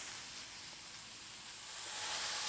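Mushrooms browning in a pan of steak drippings give off a soft, steady sizzle and hiss that swells slightly toward the end, with no talking.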